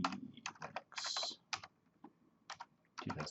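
Bursts of typing on a computer keyboard, quick clusters of key clicks separated by short pauses, close and fairly quiet.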